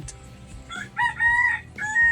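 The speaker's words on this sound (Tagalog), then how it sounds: "Wala naman tigil ang kakapasaway yung mga manok na ito." A rooster crows once, loud and fairly close, over a faint low background hum.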